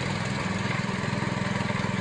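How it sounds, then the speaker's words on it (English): The petrol engine of an LA20 lawn aerator with an offset crank punching tines into the ground runs steadily, giving a loud, even, throbbing drone with fast regular pulses. "An offset crank operating system allows the power of the engine to punch the tines into the ground"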